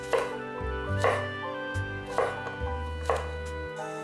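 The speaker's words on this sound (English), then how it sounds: "just slice in half lengthwise and slice into half rounds" A knife chops zucchini into half rounds for minestrone, about four crisp, evenly spaced cuts against a cutting board, close and clear over a low background hum, with no talking.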